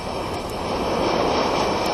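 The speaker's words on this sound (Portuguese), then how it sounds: "Conhecido como Hoover, o Lockheed S-3 Viking é a principal unidade antissubmarino de um porta-aviões" Lockheed S-3 Viking anti-submarine jet aboard an aircraft carrier, its engine giving a loud, steady, unbroken roar that fills the whole stretch with no voices.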